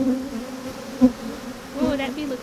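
Honey bees buzz in a steady drone as they are shaken off a frame during a hive transfer, with brief louder swells as the colony is disturbed, close and continuous.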